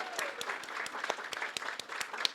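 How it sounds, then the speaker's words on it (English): An audience at a Louisville civic meeting claps in brief, scattered applause, faint and fairly distant, lasting about two seconds. "Can we please give them a round of applause?"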